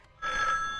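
In the horror video game Granny, a telephone starts ringing after a code is dialed, a single sustained electronic ring tone beginning abruptly after a brief quiet moment.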